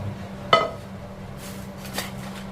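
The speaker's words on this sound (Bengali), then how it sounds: "ঢাকনাটা বন্ধ করে দিলাম" A metal lid set down onto a cooking pot of mutton and potatoes boiling in water, one sharp clink followed by a fainter knock, close by over a steady low hum.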